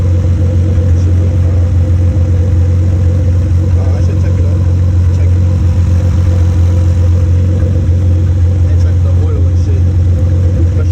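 A 2014 Infiniti Q50 hybrid engine swapped into a 2008 G35 idles on a booster, giving a loud, steady, low rumble that holds evenly throughout.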